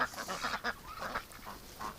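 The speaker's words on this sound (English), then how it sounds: "There was a burst between the Muscovy and the geese. They went crazy." Muscovy ducks and geese break into a sudden burst of honking and squawking, a rapid string of loud calls from a flock in a winter yard.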